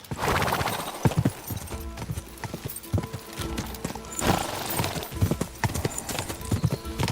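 A horse gallops in the medieval video game Kingdom Come Deliverance 2, with rapid, uneven hoof clip-clops close by and a whinny among them. A voice shouts over the hooves.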